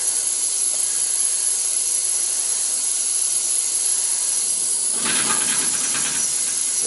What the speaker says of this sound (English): That noise is she's shutting the water off upstairs.